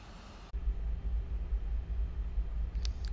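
A FlightFactor A320 taxiing to the runway in X-Plane 11, a steady low engine rumble and cockpit hum after a sudden cut in, with a few faint clicks near the end and no talk.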